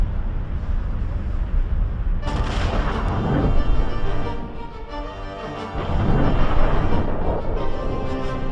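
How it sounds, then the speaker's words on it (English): Deep rumbling explosions roll in, swelling and fading in heavy waves of low roar, loud and sustained. "The sun erupted in a series of massive explosions"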